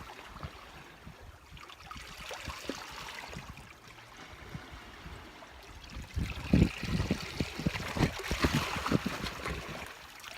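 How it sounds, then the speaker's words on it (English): A cold stream flows past, a soft, irregular trickle and splash of water that grows busier and louder after the midpoint, heard alone without voices. "I feel like I could just stay here all day and watch the water flow"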